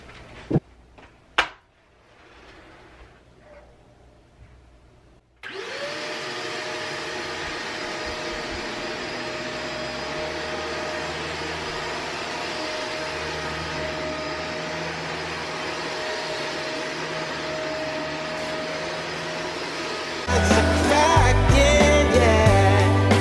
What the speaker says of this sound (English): So let's try out this vacuum.